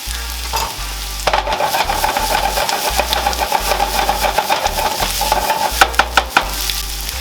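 Three cloves of chopped garlic hit the pan in a steady, close sizzle of frying, broken by scraping stirs and light clinks of the utensil, alongside a low hum. The pan is the bourbon bacon glaze for yams.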